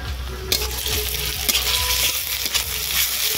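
Ginger and garlic paste being fried with browned onions in mustard oil in a wok, a loud continuous sizzle broken by repeated scraping and stirring strokes of a spatula.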